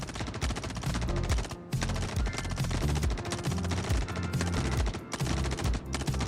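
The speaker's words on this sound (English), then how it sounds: "I think they're shooting my ship" Dense, continuous gunfire fills a fight in the video game Star Citizen as a ship comes under attack, with rapid bursts and heavy impacts layered loudly over one another with only brief dips.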